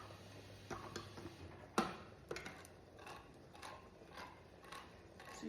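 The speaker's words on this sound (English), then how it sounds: "I'm going to open my 1 can of tomato and onion mix." A can of tomato and onion mix being opened: a series of faint, separate metallic clicks and ratcheting snaps, one sharper crack near the start, heard close with no talking.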